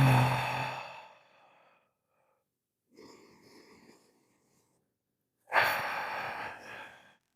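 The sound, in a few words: long deep breath in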